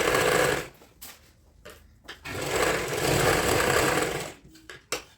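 A sewing machine stitches along the edge of kurti fabric in loud bursts, with short stops and restarts between runs.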